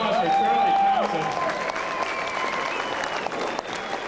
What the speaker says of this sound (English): Let's have a big round of applause for Charlie Thompson.